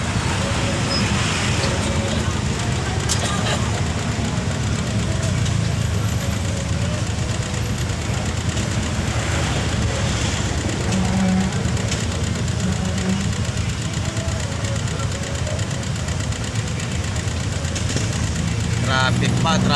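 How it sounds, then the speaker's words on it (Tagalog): Steady road traffic with car engines idling and running on a congested road near Amadeo, a loud continuous rumble that never lets up, with faint voices mixed in. "Traffic pa, traffic. Dapat pa tayo ng traffic dito."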